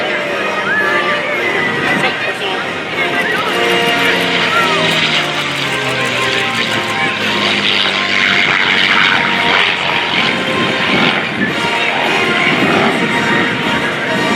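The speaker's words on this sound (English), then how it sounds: "he comes from your left, low on the deck, ladies and gentlemen. From the left, the P-51 Mustang." A World War II P-51 Mustang fighter makes a low pass from the left at the 2019 Dover AFB airshow, its propeller engine roaring loud and steady as it sweeps by with a falling pitch.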